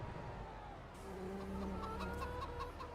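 Chickens clucking in the Farming Simulator 25 farming game, a soft cluster of short repeated clucks over a steady low hum, fairly faint and slightly distant.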